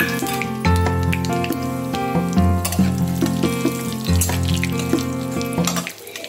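Steady crackling sizzle of bay leaf, cumin and dried red chilli in hot oil in a pan, loud and close, with faint background hum and clinks.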